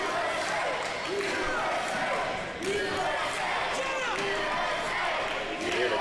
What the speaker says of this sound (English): You hear the crowd here chanting USA